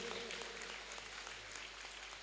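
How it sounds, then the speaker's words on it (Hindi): Audience clapping at an Odissi dance festival performance, a faint, distant patter of many hands that holds steady through the whole stretch, heard alone without voices. "एक बार ताली तो बजाइए जोर से।"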